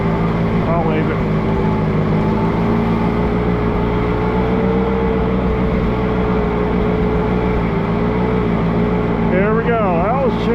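Allis Chalmers G tractor engine idling steadily outdoors in cold, windy snow, a continuous low drone throughout with wind noise; faint voices speak over it near the start and end.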